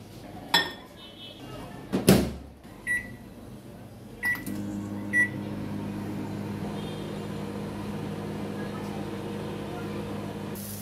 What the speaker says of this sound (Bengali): এবার চলে যাচ্ছি ওভেনে ভাতগুলো গরম করে নিতে।